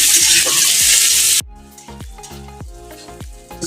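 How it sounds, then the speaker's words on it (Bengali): Chopped onion and crushed garlic hit hot oil in a pan with a loud, dense sizzle, then the hiss drops sharply and a spoon scrapes and stirs in a steady rhythm over a quieter crackle. "এখন আমি দিয়ে দিলাম পেঁয়াজ কুচি, তারপর দিলাম রসুন থেতো। লাল করে ভেজে নেব এটা।"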